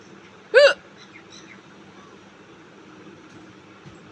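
A single loud, sharp hiccup from a woman, close to the microphone, followed by several seconds of quiet room noise.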